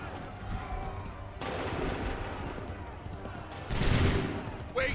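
Musket volley gunfire in the video game Assassin's Creed III: a dense, sustained rumble of shots with a louder burst near the end, mixed under shouted commands and game ambience.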